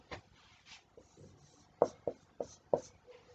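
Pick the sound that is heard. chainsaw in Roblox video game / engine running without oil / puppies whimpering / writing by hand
writing by hand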